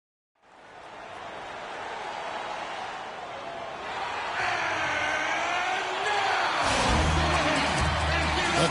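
Crowd in the Energy Solutions Arena in Salt Lake City during an NBA 2K16 Utah Jazz game, a broad roar of cheering that swells louder and stays sustained throughout.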